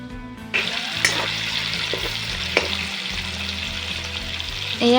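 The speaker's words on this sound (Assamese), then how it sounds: "এয়া মাছখিনি ফ্ৰাই কৰা হৈ গ'ল।" Fish pieces fry in hot oil in a pan with a loud, steady close sizzle, broken by a few sharp clatters of a spatula turning them and a louder surge at the end.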